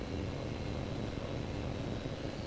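Aircraft engines in the H.A.W.X 2 combat flight game, a steady, loud broadband engine roar held without a break, with no talk over it.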